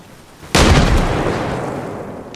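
A grenade goes off in Arma Reforger, a single sudden loud boom after a quiet moment, followed by a long rumbling decay that fills the rest of the moment, with no talk over it.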